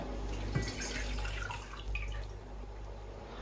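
Water, three decilitres measured out for sugar syrup, pours and trickles into a pan in a home kitchen, a steady soft splashing with a faint clink near the start.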